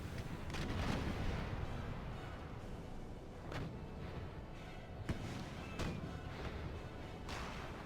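Naval cannons boom from warships in Empire: Total War, with repeated dull thuds and sharp reports spaced irregularly over a continuous rumbling battle din, some shots near and others distant.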